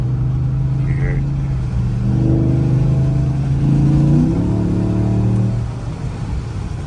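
A 2015 Cadillac Escalade with a 6.2 V8 and a Banks cold air intake drives under light throttle, its engine humming steadily, then swelling into a louder rev midway before easing off again near the end, heard from inside or close by.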